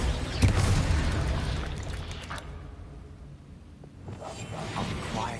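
A Confringo explosion spell goes off in a video game, a booming blast with a rushing whoosh that swells early, dips, then rises again with rumbling debris.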